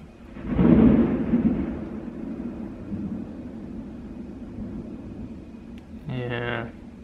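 Thunder from lightning during a May rainstorm rumbles once, a low swelling roll that fades over several seconds under steady rain hiss, followed briefly by a voice.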